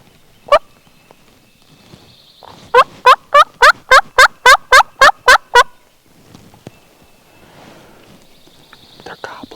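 Wild turkeys gobble on a wooded ridge during a Kentucky youth turkey season hunt: a single gobble, then a long rapid rattling run of about ten loud gobbling notes, followed by quiet woodland rustling and faint birdsong.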